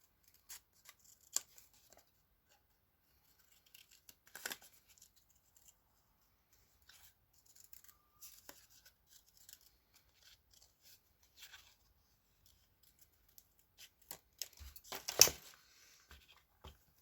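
Scissors cut paper for a handmade flip flop journal, with quiet, sparse snips scattered across the stretch and a busier cluster of crisp cuts near the end.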